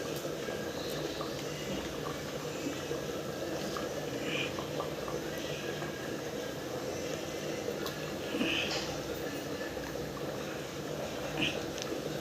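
A pan of fish curry made with coconut simmers steadily, a soft continuous bubbling with faint pops and gurgles, low in level and without interruption.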